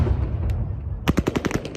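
Gunfire from troops dispersing pro-Ukrainian protesters in Russian-controlled Kherson: after a noisy rumbling stretch, a loud rapid burst of sharp shots in quick succession, close and dominant, with no talk.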